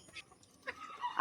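Chickens give a few short clucks close by, brief and fairly loud against a quiet yard.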